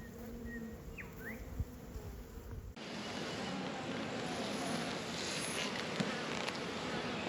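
Honey bees drone around an open beehive during an Australian beekeeping inspection, a steady close buzzing that swells louder and denser partway through, with wind noise and no talk.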